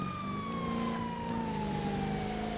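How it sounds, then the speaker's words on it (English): Ambulance siren in the GTA NoPixel roleplay game, a steady wailing tone sliding slowly downward over a constant engine rumble, loud and close throughout with no talking. "there's a hulking ambulance coming their way"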